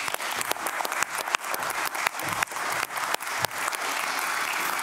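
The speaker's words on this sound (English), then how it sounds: "a big round of applause for her" Applause from a conference audience at an opening session in Amsterdam, a steady wash of many hands clapping with a few louder individual claps standing out, holding at moderate level throughout.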